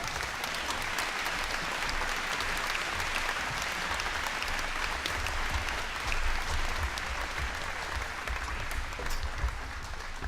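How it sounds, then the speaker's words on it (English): A large audience at a grade 9/10 closing ceremony gives sustained, dense applause for the future graduates, loud and steady throughout with no clear gaps. "let's have one more round of applause for the future grads of 2016"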